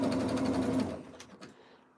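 Sewing machine stitching lace, running steadily and loudly for nearly a second before slowing and stopping, leaving quieter handling sounds.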